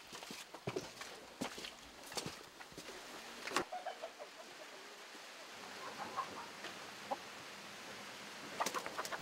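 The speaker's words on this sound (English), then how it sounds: "just enough chickens to feed her family." Chickens cluck faintly on a small rural family farm, with scattered soft calls, light shuffling steps and quiet background ambience.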